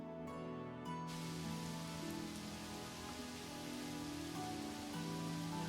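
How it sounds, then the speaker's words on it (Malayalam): Rain pours steadily around a temple elephant at Puthrukovil Parthasarathy temple in Kerala, a dense, even hiss close by with no talk over it. "മഴ പെയ്തിറങ്ങുകയാണ്"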